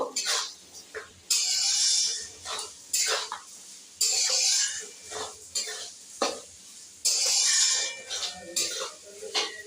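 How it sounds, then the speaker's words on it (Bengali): Sugar being stirred into vegetables in a frying pan for paneer fried rice: repeated scraping strokes of a spatula against the pan, with soft clatter between strokes and no talking. "চিনিটা এগুলোর সাথে একটু নাড়িয়ে নেব"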